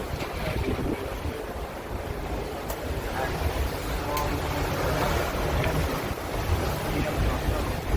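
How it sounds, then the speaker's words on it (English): Steady wind buffeting the microphone on a ship's balcony at sea, with a broad continuous rush of waves and water below, loud and constant throughout. "See that? It's windy."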